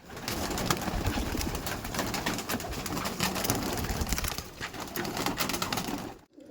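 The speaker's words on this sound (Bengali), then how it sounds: "এই দেখুন আমার ঘরের ব্রিডার পায়রা এগুলো" Andhra breeder pigeons in a home loft coo continuously and close, overlapping soft throaty calls amid faint rustling, with no talk, before falling quiet at the very end.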